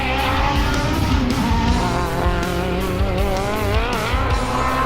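Mitsubishi Lancer Evolution race car lapping a track during a practice shakedown session, its engine roaring loud and steady close by, revs rising and falling through gear changes with faint tire noise.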